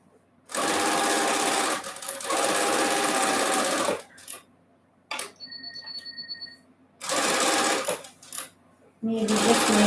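A sewing machine sews the outside sashes onto a patriotic quilt block in several loud, close bursts of rapid stitching, separated by short pauses filled with faint handling noises.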